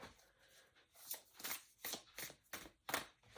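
A Lemurian oracle deck is shuffled by hand, giving a series of soft, crisp riffling swishes in quick bursts, close and fairly quiet, with no voices.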